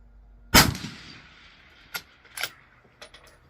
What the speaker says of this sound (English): 400 yards is only going to have one recorded shot.